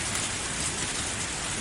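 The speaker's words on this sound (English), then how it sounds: "That there's thunder and lightning and rain now." Heavy rain from a stormy scene in a visual novel game, a dense, even hiss of downpour filling the brief moment with no distinct thunderclap.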